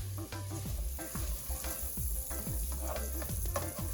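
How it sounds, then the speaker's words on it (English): Onion and garlic sauté in a pot with a close, steady sizzle, punctuated by regular scraping stirs of a utensil throughout. "I'm gonna go ahead and add my onion and garlic to this pot and make them saute a bit"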